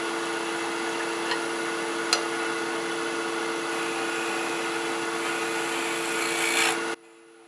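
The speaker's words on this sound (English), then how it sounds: "always keep the handle higher than the cutting edge on a scraper" Wood lathe scraper cutting a turned ring bowl, a steady close hum of the spinning lathe with a continuous soft scraping texture and a couple of faint clicks, stopping abruptly near the end.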